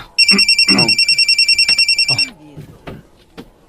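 A telephone rings loudly and close with a rapid, trilling electronic bell in two bursts, followed by brief rustling and faint movement sounds.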